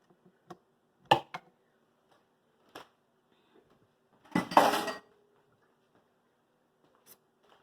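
A metal stand mixer bowl being worked loose and lifted off in a kitchen, with scattered clinks and knocks and a longer scraping rattle midway, close and otherwise quiet.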